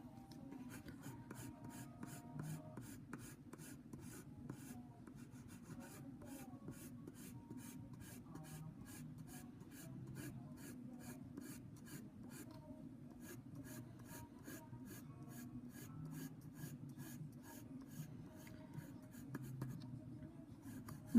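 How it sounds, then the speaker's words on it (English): Graphite pencil laid heavily onto paper in steady shading strokes, a continuous dry rasping scratch with rapid back-and-forth rhythm, close and quiet, with no talking. "I'm applying a pretty good amount of graphite into the paper."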